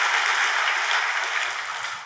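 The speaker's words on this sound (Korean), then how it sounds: "우리 박수로 하나님께 영광을 돌리겠습니다." A church congregation applauds during a sermon, a steady wash of many hands clapping together that holds strong and slowly fades near the end.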